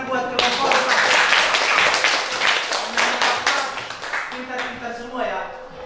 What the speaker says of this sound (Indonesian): silakan tepuk tangan buat kelompok.